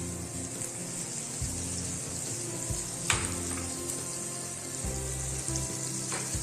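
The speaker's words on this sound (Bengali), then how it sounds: "এখানে আমি 2 টেবিল স্পুনের মতো মাখন দিচ্ছি" Butter melts and sizzles in a pan as the base for a white sauce, a steady close frying hiss with a few light clinks and stirring scrapes, no talking.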